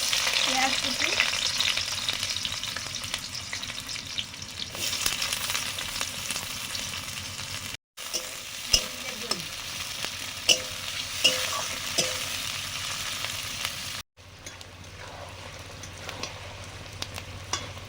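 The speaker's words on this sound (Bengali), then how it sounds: "পেঁয়াজ ভাজা হয়ে গেছে" Chopped onions fry in a pan with whole garam masala, a steady close sizzle broken by stirring scrapes and a couple of brief cuts, with no voices.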